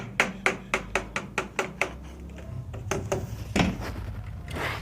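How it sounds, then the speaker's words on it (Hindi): A hammer taps an electrical conduit into a channel cut in a house wall during electric wiring work, a quick run of about nine sharp, evenly spaced knocks followed by a few scattered, softer knocks and shuffling. "थोड़ा हथौड़े से ठीक से हम बैठा लेते हैं"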